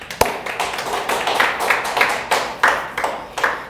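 A church congregation at a Sunday worship service applauding, a steady patter of many hands clapping at moderate distance, fairly soft and continuous with no talking.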